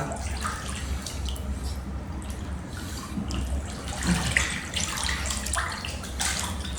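Water sloshing and splashing in a warm bathtub as someone sits in it, a steady close wash of liquid noise with small drips and splashes, no talking.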